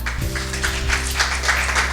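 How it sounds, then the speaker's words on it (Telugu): An audience claps at a Good Friday church service sermon, a steady burst of applause under sustained keyboard or organ chords that run throughout. "ఒకసారి చప్పట్లు కొట్టగలుగుతారా?"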